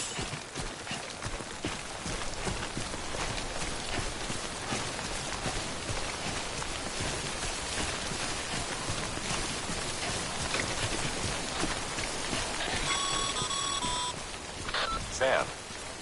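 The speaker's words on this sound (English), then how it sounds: "Don't stay out in the rain any longer than you have to." Rain in the video game Death Stranding, a steady dense hiss of falling drops on surfaces that holds throughout, with a few faint electronic beeps near the end.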